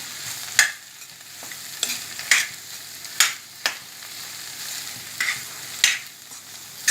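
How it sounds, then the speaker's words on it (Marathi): Instant dosa batter with salt and coriander is mixed in a bowl, producing a regular series of wet slaps and scrapes about every half second, close and clear. "आता छान एकदा मिक्स करून घेऊया."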